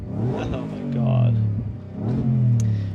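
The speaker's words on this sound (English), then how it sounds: "But you know what's a better sound system? It's our exhaust." A Ford F-150 Raptor R exhaust swells in two deep revs, loud and close, with people talking over the engine rumble.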